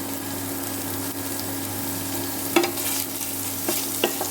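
Onion, ginger, garlic and turmeric frying in oil for an eggplant and peanut gravy curry make a continuous sizzle under a low steady hum, with a few sharp spoon scrapes near the end.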